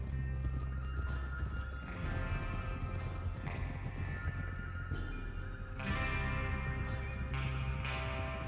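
Horses from Red Dead Redemption 2 clip-clop and gallop at a steady rhythm over a dense, continuous game soundscape, with a whinny or neigh breaking through.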